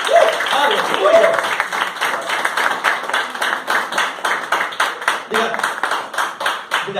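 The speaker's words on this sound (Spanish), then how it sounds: "Den un fuerte aplauso a Cristo." Church congregation applauding and clapping rhythmically at a worship service, a steady pulsing clap that fills the room, with voices and speech mixed in throughout.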